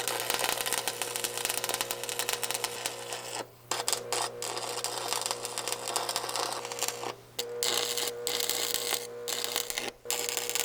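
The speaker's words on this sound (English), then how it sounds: "get the welder going, and get this tacked into place" Stick or MIG welder tack-welding a quick attach plate onto an old bucket, a steady dense crackling buzz running nearly throughout with a few brief pauses between welds, close and fairly loud with no talking.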